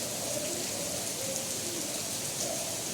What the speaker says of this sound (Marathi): आता अजून मे महिना संपला नाही आहे आणि तरी पण एवढा मोठा पाऊस पडतोय